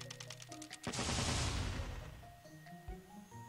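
A cannonball shot in a Layton's Mystery Journey puzzle: soft plinking tones, then a single loud burst with a noisy blast that fades out over about a second, followed by quieter chimes.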